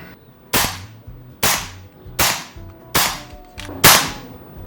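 BRK Ghost air rifle firing ZAN slugs, five sharp, snappy shots at an even pace about a second apart, each with a short decaying tail, close and loud with no talking.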